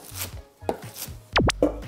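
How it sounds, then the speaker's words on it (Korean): A knife chops water parsley (minari) on a cutting board in a few close, crisp cutting strikes with brief pauses between them, and no speech. "자, 요거는 반 꺾어서 반 자르고 먹기 좋은 크기로 썰어 주시면 됩니다."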